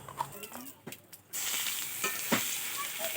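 Black cumin seeds hit hot oil over taro and start sizzling, a steady close hiss that swells suddenly partway through after a quieter stretch with faint clinks.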